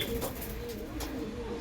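Malawi and Teddy pigeons coo softly in a low, repeated murmur, close and faint, over a quiet background.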